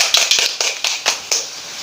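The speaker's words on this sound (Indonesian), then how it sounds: "Berikan tepuk tangannya." Students in a classroom clap for the best group, a short run of roughly eight sharp, close claps in an uneven rhythm that thins out and stops.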